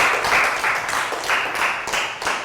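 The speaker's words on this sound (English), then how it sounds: "Round of applause for Prel." A classroom of children gives a round of applause, a dense burst of clapping in several uneven waves lasting a couple of seconds, fairly close and loud.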